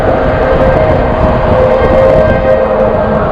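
A train passes overhead while riding an e-bike underneath, a loud, steady rumble and roar filling the whole clip with no voices.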